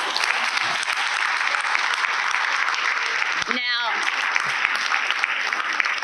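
An audience at a school district board meeting claps in sustained, dense applause throughout, broken only briefly by a voice starting to speak.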